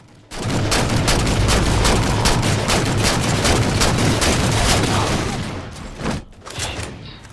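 Shotgun gunfire in the Halo 4 video game, heard as a loud, dense run of blasts and rattling fire lasting several seconds before fading into a few scattered shots.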